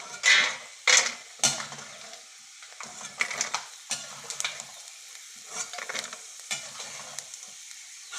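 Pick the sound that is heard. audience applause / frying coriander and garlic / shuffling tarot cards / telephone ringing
frying coriander and garlic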